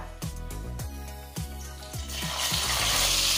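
Onion paste hitting hot oil with tempered spices including kalo jeere, for a pangas fish curry, sizzling close up; a steady frying hiss swells louder toward the end, with low background hum and a few clinks.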